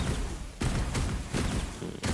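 Rapid gunfire from the gunner class in the video game Forsaken World 2, a dense continuous rattle of shots broken into three bursts by brief gaps, loud and close with a hint of voice in the background.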